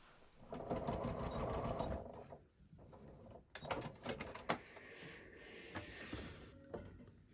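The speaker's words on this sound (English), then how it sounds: "sew this whole waistband on with a 1/2 inch seam allowance" A sewing machine stitches a trouser waistband seam, a close whirring run of needle strokes for two seconds followed by clicks, clunks and shorter bursts of stitching.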